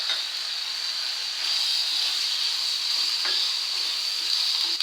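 Curry leaves and dried chillies fry in hot oil for a Tamil brinjal curry, giving a steady close sizzle with a few small pops and crackles.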